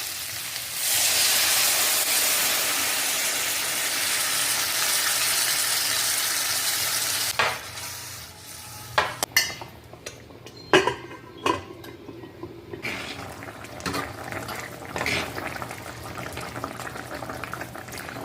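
Okra tamarind kuzhambu simmers and bubbles steadily in a pan after tamarind water is poured in, a broad hiss that cuts off midway, followed by scattered clinks and knocks of utensils against the pan.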